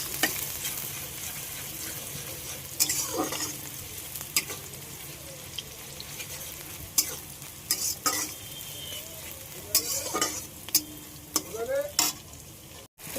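Onions fry in hot oil in a pan for a home-style country chicken curry, giving a steady close sizzle with intermittent stirring scrapes and clinks throughout.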